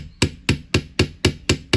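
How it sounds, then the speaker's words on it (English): A rubber hammer taps a handmade wire-wrapped jewellery clasp in seven evenly spaced, firm, close knocks, each a short dull thud. "use your rubber hammer on that one if you like"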